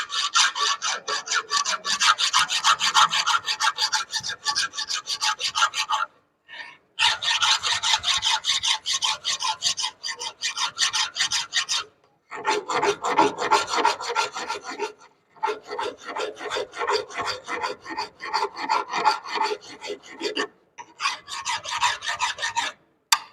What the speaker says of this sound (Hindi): जॉब को हमें सही से पकड़ लेना है और हमें रेती को चलाना है